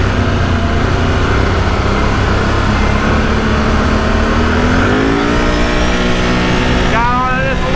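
Can-Am ATV engine in a drag race, roaring loud and close and climbing to the rev limiter, with the pitch rising then bouncing at the limit; a voice is heard over the engine.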